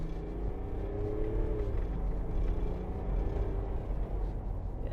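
A 2024 Mercedes-Benz G-Wagon engine pulls with a deep, steady low rumble and a rising whir as the SUV accelerates, smooth and continuous with no talking over it.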